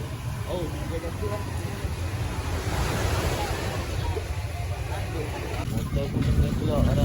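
Surf breaking on a beach at Pangkor Island with steady wind noise, a continuous rushing wash that swells louder toward the end, with no clear voices over it.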